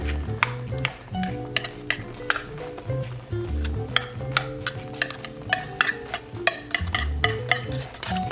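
Tuna is broken up and stirred in a pan with repeated sharp clacks and scrapes of a utensil against metal in an uneven rhythm, up close over a low background hum, with no talking.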